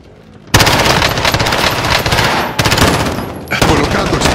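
Machine gun fire in the video game Call of Duty Warzone, with loud, close, sustained automatic bursts, brief breaks between volleys, and a voice now and then under the gunfire.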